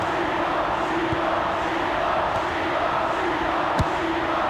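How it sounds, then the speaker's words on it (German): Stadium crowd roaring and cheering in a FIFA football video game after a free-kick goal in a Netherlands versus Germany World Cup qualifier, a steady dense wall of crowd noise throughout with no voices on top. "Und das ist jetzt hier der Auslöser für den grenzenlosen Jubel auf den Tribünen"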